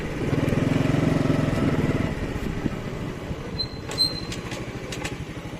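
A motorcycle rides along a street in Islamabad, Pakistan: a loud, close, throbbing engine note for about two seconds that then eases to a lower steady running rumble, with faint street noises and a few brief high tones.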